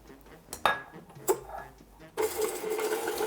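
Eggs and sugar are stirred together in a bowl: a few sharp clinks of utensil on bowl come first, then a busy, continuous scraping whisk takes over for the last second.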